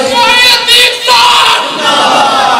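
A large crowd at a religious gathering with an Islamic preacher chants slogans in loud, unified bursts. The massed voices swell, briefly dip and rise again close by.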